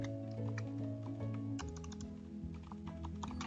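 Steady keystrokes on a computer keyboard while a small Python program is typed, rapid clicks over a continuous tonal background hum.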